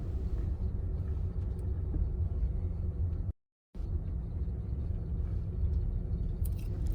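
A 1994 Mercedes-Benz G320 short-wheelbase cruises along the road, its cabin filled with a steady low engine and road rumble that cuts out for a brief moment midway and then resumes unchanged.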